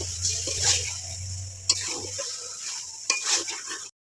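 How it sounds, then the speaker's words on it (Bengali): Chinese duck meat, about 2.5 kg of chopped pieces, stir-fried in a pan with steady sizzling, scraping and stirring; two sharp clanks of a utensil against the pan break through the close, continuous frying noise. "এবার মাংসটা ভালো করে কিছুক্ষণ কষাবো।"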